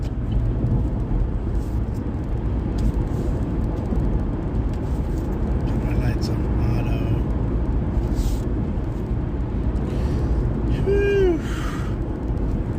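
A car cruises along a California highway, its low road rumble and engine drone steady and close throughout, with a voice heard intermittently over it.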